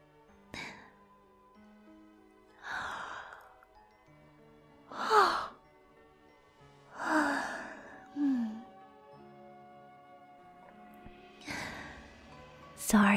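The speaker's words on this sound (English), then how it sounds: "Sorry for making you yawn." A voice performs several soft, breathy yawns and sighs as a puffy-tailed kitsune consort in a quiet sleep-aid roleplay, each long exhale rising and fading, spaced a few seconds apart, close and intimate.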